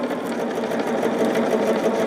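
A sewing machine runs steadily while stitching a quilt block for a trip-around-the-block pattern, a continuous close mechanical whir with fine rapid needle ticking throughout.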